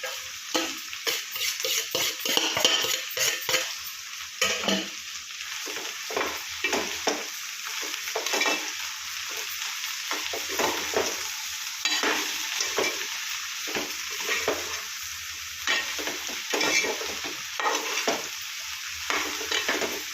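Okra sizzles steadily in hot oil with ginger paste, turmeric, chili powder, green chili paste and salt, as a spoon stirs and scrapes the pan in repeated strokes, close and alone without talk.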